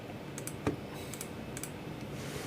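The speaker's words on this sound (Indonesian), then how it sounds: "Okay, this is how the keyboard sounds." Light clicks of keys on a custom mechanical computer keyboard, a few sparse taps with one sharper clack, faint against a steady background hiss.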